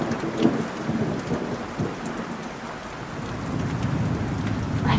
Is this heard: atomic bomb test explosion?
no